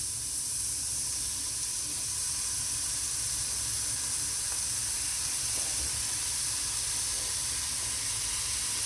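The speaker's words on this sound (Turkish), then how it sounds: "Ve mantarları tavaya ekliyoruz." Mushrooms in a frying pan give off a steady, dense sizzle and hiss, loud and unbroken throughout, with faint background hum and no talking.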